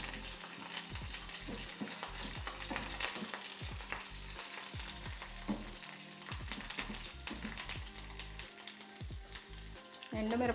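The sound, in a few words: tempering seeds, urad dal, cumin, mustard sizzling in oil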